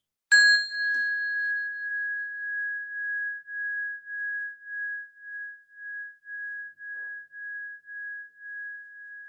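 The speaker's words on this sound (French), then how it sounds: "je scelle l'intention pour nous tous du son de la cloche" A single bell is struck once at a yoga workshop and its clear, pure tone rings on for several seconds, slowly pulsing as it fades.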